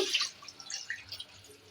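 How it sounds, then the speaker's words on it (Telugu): Water pours into a cooking pot for mutton curry in a brief splashing trickle that fades into faint dripping, close and quiet with no talk. "నేనైతే ఒక హాఫ్ హాఫ్ లీటర్ వాటర్ పోసాను"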